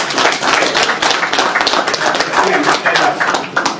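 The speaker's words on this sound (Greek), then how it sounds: "Τώρα θα παρακαλέσω το χειροκρότημά σας για να αρχίσει ο κύριος Γενικός." An audience at a Greek sports event claps steadily, a dense, loud wash of applause that holds throughout with no pauses.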